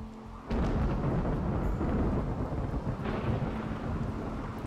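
A thunderstorm in the video game RimWorld sets off a sudden deep rolling rumble of thunder after a short quieter moment. It continues as a heavy, dense roar like pouring rain, with no voices.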